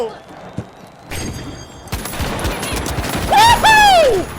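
Pistol gunfire in the video game THE FINALS, delivered as a few sharp shots scattered through a busy mix of in-game effects, with other game sounds and a voice rising near the end.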